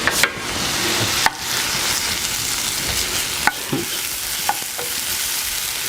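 Mushrooms and shallots fry steadily in a pan for risotto, a continuous close sizzle broken by a few sharp clacks of a utensil stirring against the pan.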